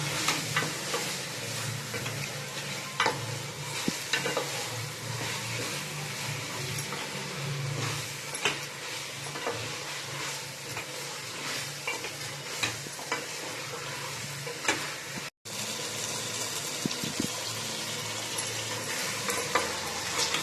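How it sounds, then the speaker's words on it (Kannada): Marinated chicken for biryani fries on a high flame with a steady close sizzle and hiss, broken by occasional stirring scrapes, and cuts out briefly near the end. "ಈ ಚಿಕನ್ ಹಾಕೊಂಡು 20 ನಿಮಿಷ ಬೇಯಿಸ್ಕೋಬೇಕು ಹೈ ಫ್ಲೇಮಲ್ಲಿ."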